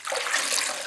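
An air filter is sloshed back and forth in warm water at about 40–50 degrees, producing a brief, close, splashing swirl of liquid with no talking.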